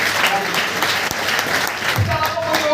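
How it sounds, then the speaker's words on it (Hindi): Loud, steady applause from a training-session audience at a direct-selling company program, a sustained burst of clapping lasting about three seconds with no voices over it. "एक बार जोरदार ताली होनी चाहिए इसके लिए"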